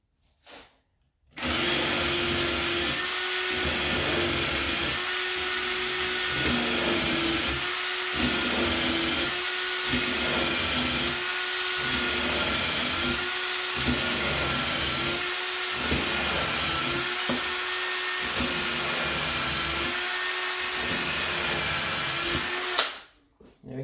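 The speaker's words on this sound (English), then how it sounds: "Get my drill as level as I can." A power drill runs continuously for about twenty seconds, boring shelf holes in wood, with a loud steady whine and faint rhythmic pulsing throughout, close to the listener.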